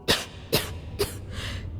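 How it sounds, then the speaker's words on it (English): A mining woman in the game Starfield coughs three times in harsh, breathy bursts spaced about half a second apart, followed by a softer fourth exhalation, close and clear over a low ambient hum. "That cough doesn't sound too good at all."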